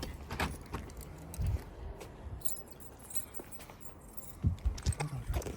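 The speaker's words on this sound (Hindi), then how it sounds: "चाबी।" Keys jangle and clink in irregular bursts close by, with a low background hum and rustling in a quiet indoor setting before leaving for a day out in London.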